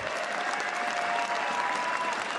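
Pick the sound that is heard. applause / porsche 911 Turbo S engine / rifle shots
applause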